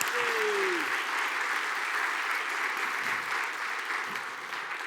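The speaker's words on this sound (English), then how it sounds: "Applause." Conference audience applause after a talk, steady clapping from a room full of people that fades slightly toward the end, with a brief voice sound at the start.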